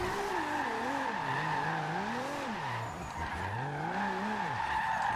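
A tuned Toyota Supra with a modified transmission slides in Forza Horizon 2, its tires skidding in a steady, loud squeal over a wavering engine note that rises and falls through the slide, with no talking.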